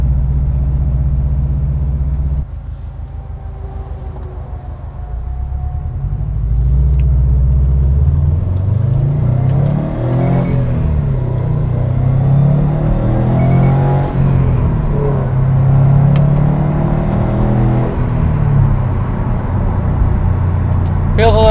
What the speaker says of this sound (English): So let's take this out on the main road here in a second and see how it feels.